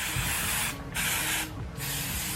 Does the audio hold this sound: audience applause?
no